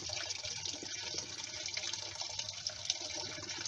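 Water runs steadily throughout as part of a garden barrel pond's water is drained and replaced, a continuous splashing hiss with no voices.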